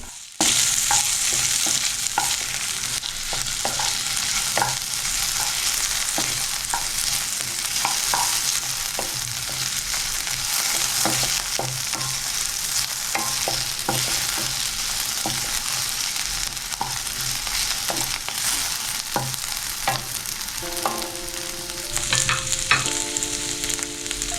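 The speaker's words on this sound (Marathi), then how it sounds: "नंतर लगेच बटाटा. याला साधारण 1 ते 2 मिनटं याला छान हलक्या फ्लेमवर होऊ द्यावं." Diced potatoes frying in oil on a low flame for sabudana khichdi, a steady close sizzle with a spoon stirring and scraping the pan throughout, occasional clinks near the end.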